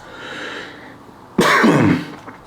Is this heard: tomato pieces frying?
no